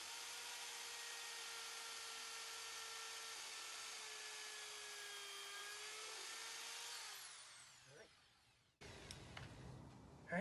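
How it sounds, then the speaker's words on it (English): A power drill bores a hole through wood while building custom stairs, a steady high motor whine held for about seven seconds before winding down, followed by brief clatter and handling noise. "we'll just go ahead and drill our hole"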